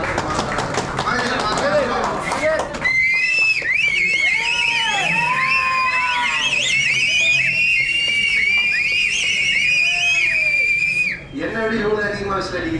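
Sharp, shrill whistles from a crowd of fans at a Madurai fan meet pierce through steady cheering and talk, repeating in overlapping bursts throughout.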